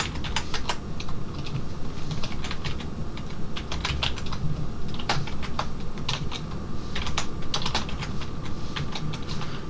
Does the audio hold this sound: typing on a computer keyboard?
yes